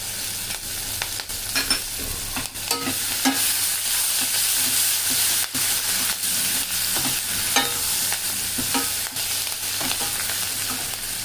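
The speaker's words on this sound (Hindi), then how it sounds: "जब अदरक भून जाएगा तब हम जो 3 हरी मिर्च काटी है वो इसमें डाल देंगे।" Ginger sizzles loudly in a pan for jackfruit sabzi as it is stirred, a continuous close frying hiss broken by scraping strokes of the spoon, with no talk over it.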